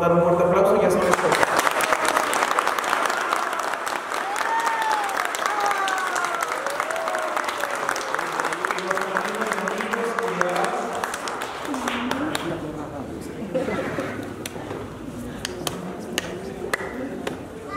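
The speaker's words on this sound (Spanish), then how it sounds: "Ahora sí le podemos dar un fuerte aplauso" Wedding guests in a church applaud after the vows, a lively clatter of hands with voices and chatter mixed in that slowly thins toward the end.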